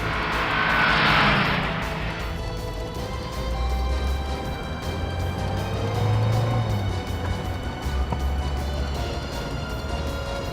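A car speeding after a truck on the road, its steady engine roar and road noise continuous and fairly loud, with a brief rushing swell near the start and no voices.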